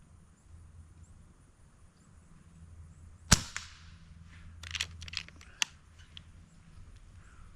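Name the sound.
Avenge X air rifle shot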